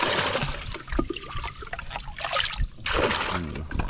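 Water trickles and splashes as it is drained out and poured back into a fish trap container, uneven pouring and dribbling sounds up close.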